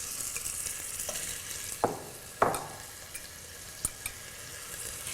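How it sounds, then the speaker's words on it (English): Meat browning in a hot pan for a casserole, a quiet steady sizzle with a few sharp scraping clanks of a utensil against the pan, close by and without talking. "because your meat will be so brown that it seals in the flavor and gives it a really, really beautiful color"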